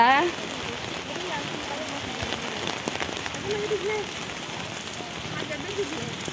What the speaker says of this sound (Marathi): खूपच पाऊस यायला लागलाय आता